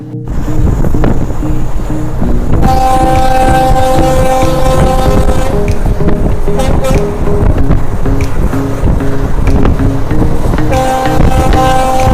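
Loud, steady rumble of the Testa Torsa Express (03141) running on rails between Sealdah and New Alipurduar, a continuous rolling roar with sustained tonal hum laid over it throughout.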